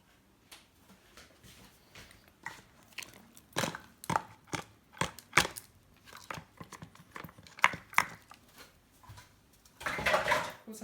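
Cinnamon bun dough with eggs, melted butter and sugar mixed by hand in a bowl, giving a string of irregular wet slaps, knocks and scrapes, moderately close, with a louder, busier burst of mixing near the end.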